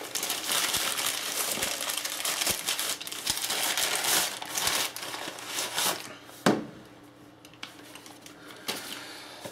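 Gray plastic wrap packaging around an LED video camera light is torn and crinkled up close, with steady crackling for several seconds, a sharp rip near the end and then quieter rustling.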